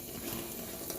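Water trickles and splashes into a bowl of bread dough as it is mixed by hand, a soft continuous wet rush with faint mechanical clicks, close and alone without any voice.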